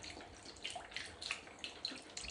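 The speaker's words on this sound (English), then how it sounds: "I've got some organic beef bone broth here, and I'm going to pour that in until it's halfway covering our" Organic beef bone broth pours over a roast in a soft, quiet liquid trickle with small splashes and drips, no voices present.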